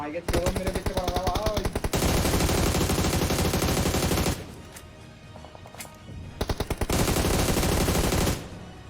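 Rapid automatic gunfire in the mobile shooter BGMI, loud dense bursts that pause briefly and then resume, with game sounds in the gaps and some speech.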